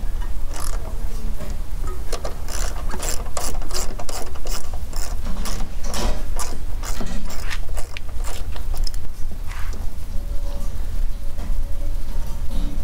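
A ratchet loosens a plastic nut on a Mercedes during an auxiliary battery replacement, making rapid, close clicking in repeated bursts with short pauses, then slowing toward the end.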